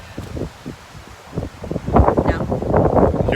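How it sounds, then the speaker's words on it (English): Gusty wind blows outdoors at a logging site, buffeting the microphone with rumbling noise that swells louder and steadier in the second half, with leaves rustling. "Hear this wind?"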